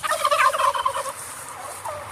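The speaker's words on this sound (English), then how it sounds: "So over here we have the chickens and the turkeys." Turkeys gobble loudly and close by in a rapid burst of warbling calls, then it falls quiet except for a short faint call near the end.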